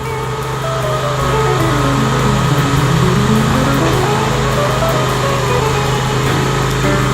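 A rotor machine mixes surface material on a riverside trail installation, its engine droning loud and steady throughout, with a rising and falling whine as the load shifts.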